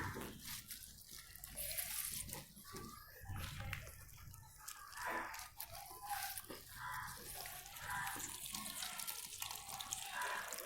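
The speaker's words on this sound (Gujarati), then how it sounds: "એમાંથી વધારાનું પાણી હશે તો પણ એ નીકળી જશે" Excess water drains and drips steadily from raw mangoes for several seconds, a continuous splashy wash with no voices.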